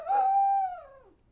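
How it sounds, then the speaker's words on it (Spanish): A dog lets out one short, clear howl indoors, a single sustained tone that sags and fades during a scuffle with a house cat; no one speaks. "están peleando mi gato y mi perro."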